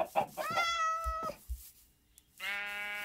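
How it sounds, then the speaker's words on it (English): Two clear Minecraft cat meows come close and fairly loud, one near the start and another after a quiet pause, with a few soft thuds between them. "Where'd my other kitty go? There's a gray kitty here."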